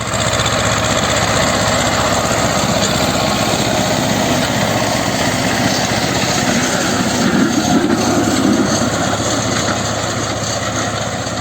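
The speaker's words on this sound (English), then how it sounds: "So here I'll show you a small video how a tractor works." A farm tractor engine runs at a steady, continuous drone for several seconds, with a constant rattling vibration and no voices.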